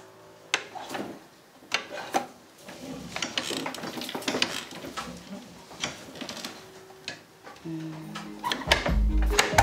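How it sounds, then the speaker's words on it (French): Lever-operated sample loom being worked by hand, with repeated wooden clacks, ratcheting clicks and rubbing as the warp threads are raised and the weft passed through; close and fairly busy, heavier thumps near the end. "je vais lever une partie de la nappe de chaîne et je vais passer mon fil de trame entre mes fils de chaîne"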